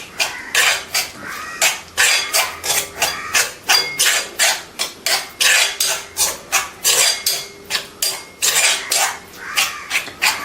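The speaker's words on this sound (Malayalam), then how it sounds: "ഇതെല്ലാം കൂടെ നല്ല രീതിയിൽ അങ്ങ് മിക്സ് ആക്കി എടുക്കണം." Ground leaves and oil for a homemade hair oil being mixed in a metal vessel, making loud, steady, rapid clanks and scrapes in an even rhythm, close up and continuous, with no talking.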